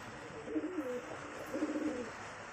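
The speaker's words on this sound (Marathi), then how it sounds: "हा फॅन्सी कबूतर म्हणतात त्याला" A fancy pigeon coos softly in two low, rolling bursts, close by against a quiet background hiss.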